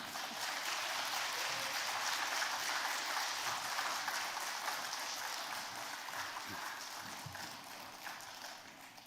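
Church congregation applauding at a women's mission society joint worship service, a steady dense wash of clapping that stays loud and even throughout, with no talk over it.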